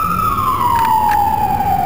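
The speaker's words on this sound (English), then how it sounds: "Notice how the cars move out of the way so while the ambulance go by." Ambulance siren on a neighbourhood street in Jamaica Estates, Fresh Meadows, Queens, New York, a loud steady wail sliding slowly down in pitch as it passes close by, under a low rumble of traffic.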